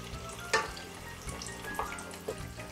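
Green plantain patacones in hot oil on their second fry give off a steady sizzling hiss, with a few sharper crackles and pops rising above it at intervals.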